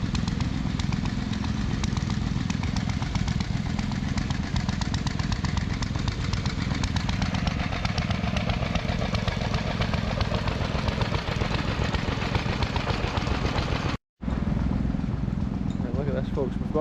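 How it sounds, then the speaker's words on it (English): A Lister twin-cylinder diesel generator fitted with a welder runs steadily at an outdoor vintage rally in Glamis, Scotland, a loud continuous chugging drone with people talking nearby over it. "we've got a Lister diesel twin here with a welder on it"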